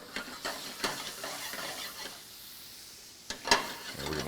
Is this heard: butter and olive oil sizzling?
yes